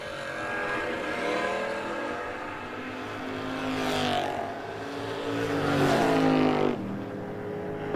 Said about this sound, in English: The Pontiac in the left lane got the